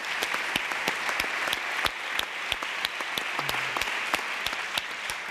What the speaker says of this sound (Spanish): Un fuerte aplauso para Juana Escudero